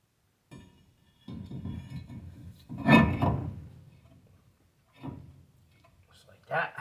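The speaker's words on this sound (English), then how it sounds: "Now we can go ahead and just pull this rotor off." An old front brake rotor comes off the hub of a Chevy/GMC 1500-3500 truck and a new one slides on, making a scraping metallic clunk, a louder central clank and a few sharper knocks separated by quiet gaps.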